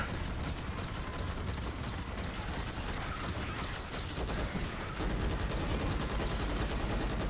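Turret guns fire on bugs in Starship Troopers Extermination: a dense, continuous stream of rapid automatic shots, loud and close. The rhythm grows sharper and more clipped near the end.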